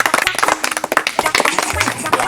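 Clapping from an audience at an Independence Day village school function honoring the sarpanch, rapid uneven claps over a busy background with some voices mixed in.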